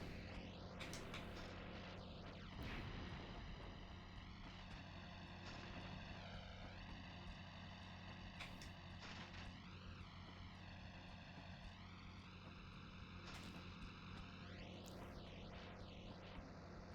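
An out-of-control plane's propeller engine droning in the Spider-Man 2 video game, a loud continuous roar with pitch that repeatedly swoops and wavers across the whole stretch, with no talking.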